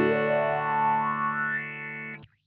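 An Earthquaker Devices Spatial Delivery envelope filter in its inverted down mode colours a sustained, distorted guitar note. The filter sweeps audibly across it before the note cuts off abruptly near the end, with no voice present.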